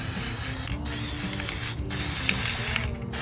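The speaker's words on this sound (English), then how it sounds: "And just kind of spray it on." Matte workable fixative hisses from an aerosol can in close, steady sprays, broken by two brief pauses, with faint mechanical clicks of the nozzle.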